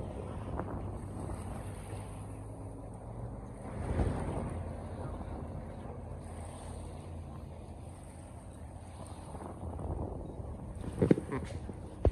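Outdoors by a river, steady wind buffets the microphone over a low wash of moving water, with a couple of louder gusts and brief knocks.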